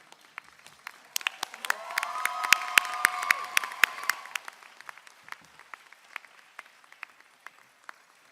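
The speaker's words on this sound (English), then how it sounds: "Let's give her a wonderful round of applause for her 10 years as Associate Dean" Audience applauding at a university pharmacy convocation ceremony, a crowd's clapping swelling in the middle and then thinning to scattered individual claps, moderately close in a large hall.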